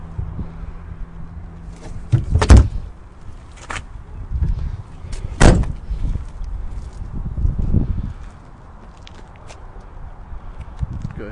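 Trunk of a 2009 Chrysler 300 being handled, with a couple of sharp bangs and clunks spread among softer rustling and shuffling sounds outdoors.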